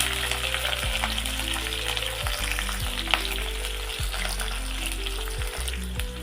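Green chillies, onions and cumin seeds sizzling in hot oil in a pan for a Telugu pappucharu, a steady close crackling fry with occasional stirring scrapes and no talk.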